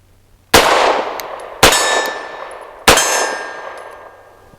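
Three loud shots from a CZ 75 BD pistol fired about a second apart, each a sharp crack followed by a ringing, fading echo, with no talking.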